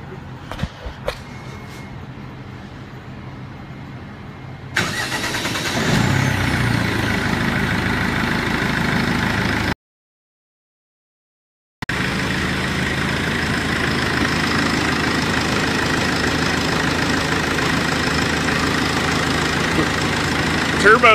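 A Cummins turbo diesel crate engine cranks, fires and settles into a loud steady idle, with a brief cut in the middle before the idle resumes; people talk faintly at the start.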